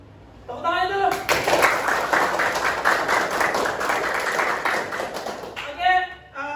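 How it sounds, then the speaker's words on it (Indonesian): Classroom applause, a burst of many hands clapping for several seconds, framed by speech before and after. "Tepuk tangannya dulu."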